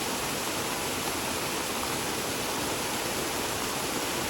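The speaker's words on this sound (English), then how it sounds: "Yeah, this waterfall is always pretty cool." Steady, loud roar of a waterfall close by, a dense, unbroken rush of falling water filling the whole clip with no voices.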